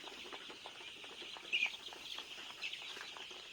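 A flock of 15-day-old Sonali super hybrid chickens in a poultry shed, heard as faint, continuous high peeping and cheeping from many birds at a distance.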